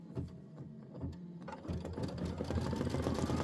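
An Aveneer embroidery machine stitches OESD Boo Manor tiles in a 6x10 hoop, giving a steady, rapid mechanical whirring with rhythmic needle clatter that grows louder and denser after the first second and a half.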